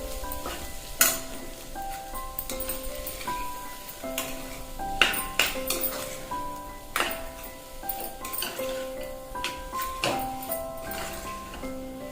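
Spicy kat vada rasa being sautéed in a pan, with a steady close sizzle under repeated stirring and scraping strokes, plus occasional sharper clicks of the spoon against the pan.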